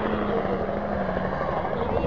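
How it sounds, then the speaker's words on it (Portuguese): A helicopter passes over a WRC Rally Argentina 2011 stage, its rotor thrumming loudly and steadily close overhead while spectators talk excitedly beneath the noise. "Não, o helicóptero da Quilmes passou aqui."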